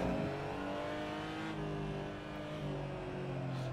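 A race car engine in a sim racing video game holds a steady, loud drone that rises and falls slightly as the throttle is worked, with no voices over it.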